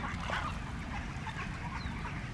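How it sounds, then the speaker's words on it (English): Ducks in a park on a rainy day keep up a busy, overlapping chorus of calls and clucks, close and fairly loud, against steady outdoor background noise with no talking. "So lots of quacking going on here."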